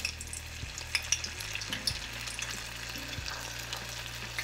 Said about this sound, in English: So when you're frying, especially with frozen stuff